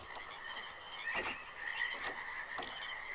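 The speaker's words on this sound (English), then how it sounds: "You still hear the frogs and all that," Frogs croak steadily in the realMYST Masterpiece Edition video game, a dense, continuous chorus of ambient calls with a few louder bursts rising above it, heard alone with no talk.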